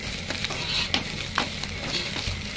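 Food sizzles steadily in a pan while a utensil stirs and scrapes, with a few sharper clinks standing out.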